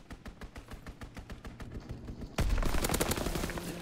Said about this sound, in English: Call for a strafing run.